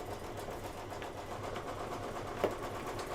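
A sewing machine stitches quilt pieces together with a steady, fast mechanical whirr at moderate volume and a small click near the end, no voices present.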